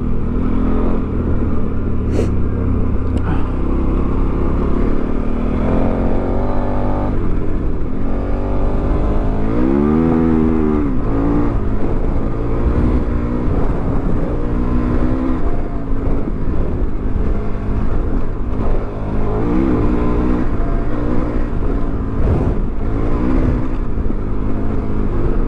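A motorcycle engine in a video game rumbles continuously and loudly, its pitch rising and falling with throttle changes, rough and throaty throughout with no voices.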